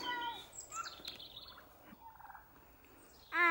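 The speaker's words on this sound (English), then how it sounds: "Here's the chickens." Turkeys gobble in short warbling bursts, several calls close by with pauses between, and a loud gobble at the end.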